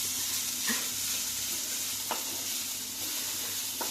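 Carrot and beans being stirred in a pan while making corn soup, with soft scraping strokes and a faint sizzle running underneath, and a few sharper scrapes spaced out over the stretch.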